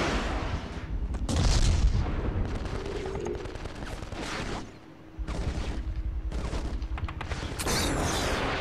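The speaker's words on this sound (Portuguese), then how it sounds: "Tem uma explosão aqui, cara." Explosions and gunfire from the PS2 shooter game Black burst out in loud, repeated booms and rattling shots, a dense stretch of combat noise with a brief lull midway.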